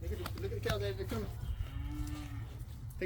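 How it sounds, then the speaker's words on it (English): Farm cattle mooing as the herd approaches, with one long, low moo drawn out in the middle of the stretch over steady outdoor background noise and a few brief vocal sounds near the start. "Oh, the cows are coming, Addy."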